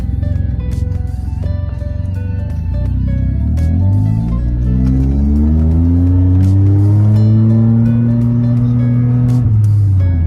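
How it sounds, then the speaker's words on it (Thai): Small car with an electric throttle controller set to mode 24 accelerating hard, the engine climbing through several rising gear pulls, loud and close, settling into a high steady drone near the end. "ลองกดคานเร่งดูว่า คตราเร่งต่างกันแค่ไหน"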